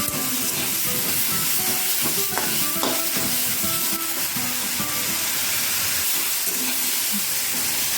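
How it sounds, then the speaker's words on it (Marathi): Green tomatoes sauté in a hot pan with a steady hiss and sizzle, punctuated by clinks and scrapes of a spatula stirring them, close and continuous with no talking. "टोमॅटो पण छान परतून घ्यायची थोडीशी फार शिजवत बसायचं नाही"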